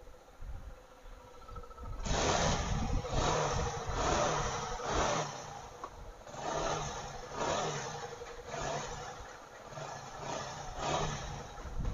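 A Hero Passion X Pro motorcycle engine, just started after a fuel pipe repair, runs at a fairly loud, steady idle with a pulsing, uneven rhythm after about two seconds of quiet background.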